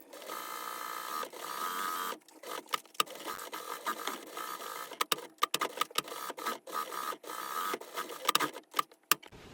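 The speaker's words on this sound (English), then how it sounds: "So I'm just going to do a straight stitch to hold this in place." A sewing machine runs a straight stitch through a hoodie, holding a sewn-on pet pouch in place, first as a steady whirring run and then as a series of short stop-start bursts with clicks between them. Nobody speaks.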